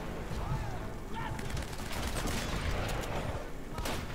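Gunfire in the video game Uncharted: Drake's Fortune, a continuous rattle of rapid shots and impacts mixed with busy game noise, fairly dense and steady, with faint voices in the background.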